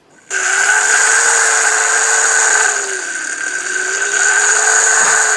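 Brushless pump spinning up abruptly, then holding a loud, steady, high-pitched whine with a brief dip in speed before it evens out, close by.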